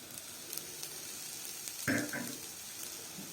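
Garlic cloves dropping into a hot pan already holding onion and pepper, with a sudden sizzle that swells and then settles into a soft crackle, quiet and close with no voices.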